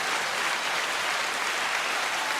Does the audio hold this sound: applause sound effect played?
yes